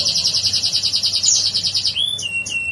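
Kolibri ninja (konin) bird chirping, a rapid run of high, evenly pulsed trills, followed by a few sharper separate chirps, close and clear with no talk.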